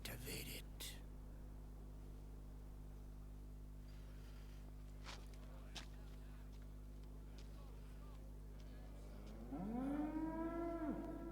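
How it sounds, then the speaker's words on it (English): Cow in the video game Metal Gear Solid 4 gives a single drawn-out moo near the end, rising and falling, after a quiet stretch of low hum with faint rustles and a whisper. "The fucking cow."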